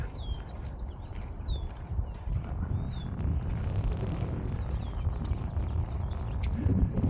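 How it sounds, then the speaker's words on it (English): Several short, clear bird chirps and whistles ring out intermittently over a low rumble of wind and outdoor noise. "You can hear the birds singing."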